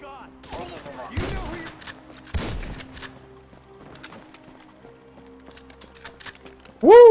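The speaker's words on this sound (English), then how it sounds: "Double tap with the shotgun." Two close, punchy shotgun blasts in the video game GTA V, fired about a second apart as a quick double tap over low game ambience; a voice bursts in loudly at the very end.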